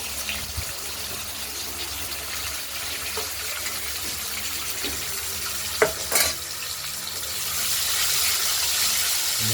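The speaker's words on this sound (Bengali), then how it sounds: "আলুগুলোকে এবার ভেজে নেবো, ভাজা ভাজা করে নেবো একটু।" Potatoes frying in hot oil with whole spices, a steady close sizzle with occasional stirring scrapes and clinks, the hiss swelling louder toward the end, no speech.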